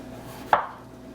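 A single sharp knife chop through a potato lands on a cutting board, one crisp thud standing alone in a quiet room.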